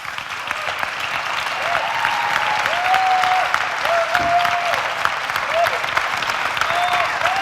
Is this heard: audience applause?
yes